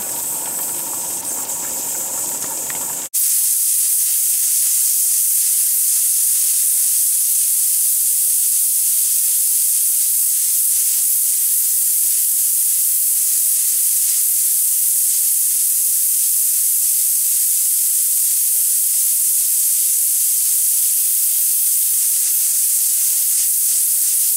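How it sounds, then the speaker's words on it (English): Steam hisses steadily and loudly from a pressure canner's weighted gauge while canning ground beef, a constant bright rushing hiss that begins abruptly after a short muffled stretch and holds unchanged. "now that my gauge has jiggled and bounced and it's come up to pressure"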